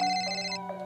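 A telephone ringtone plays a short, bright electronic melody of a few rising tones, close and clear, with no voices.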